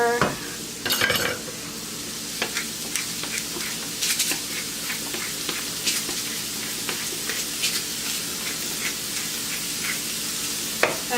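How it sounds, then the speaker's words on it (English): Oyster mushrooms and onion sizzle steadily in olive oil in a cast-iron skillet, with scraping stirs and occasional clinks of a utensil against the pan, close and continuous without talk. "Got a nice sizzle going on."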